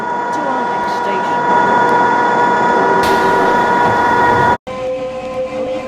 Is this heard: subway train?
yes